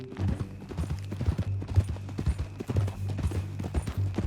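Horse hooves clip-clopping in the video game Red Dead Redemption 2, an uneven quick clatter of hoofbeats close by over a low droning background.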